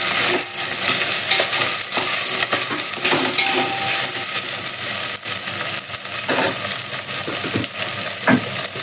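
Drumstick pieces are tipped into a pan of lentil curry base and stirred, producing a dense, loud sizzle with frequent clattering spatula scrapes and knocks against the pan.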